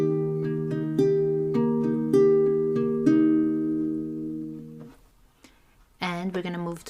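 A beginner's guitar chord starts from its root note, with strings picked one after another in a steady rhythm, bass notes repeating as the chord builds and rings. The chord then fades out and a voice starts talking.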